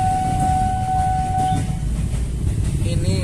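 A steady, loud rumble of a train rolling past with a sustained whistle-like tone, no clear speech.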